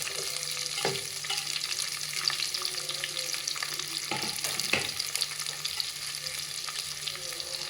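Three large onions fry and sizzle steadily in a pan for tomato biryani, a continuous close hiss broken by a few clacks of stirring, with no talk.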